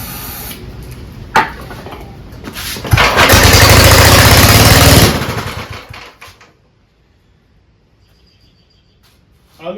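A 1951 Gravely Model L engine sprayed with carb cleaner catches with a sharp pop, then roars loudly and steadily for about two seconds before sputtering and dying away into quiet.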